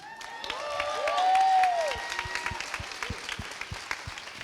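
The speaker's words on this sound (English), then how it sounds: "Round of applause." Audience applause after a SXSW 2018 film Q&A for Wild Nights With Emily, scattered individual claps building into a crowd round under a sustained tonal sound, then thinning to separate sharp claps toward the end.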